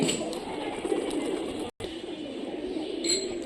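Pigeons coo in low, steady rolling calls that run through, including a blue female checkered Dabra, with a brief break partway and faint background noise.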